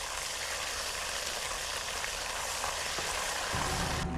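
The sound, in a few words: stirring ginger, green chili and garlic paste frying in pan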